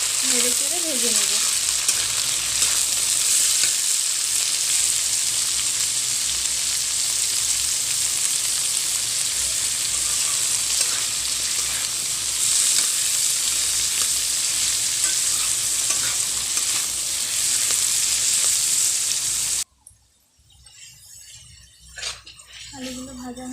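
Half-fried potatoes and soaked chickpeas sizzling in a pan, a continuous loud frying hiss with repeated stirring scrapes, a short voice at the start, then quieter clatter near the end.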